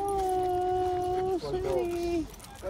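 A dog whimpers in long high whines that rise into short yips, close and loud, with people talking in the background.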